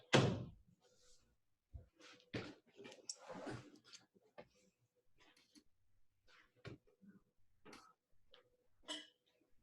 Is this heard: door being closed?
yes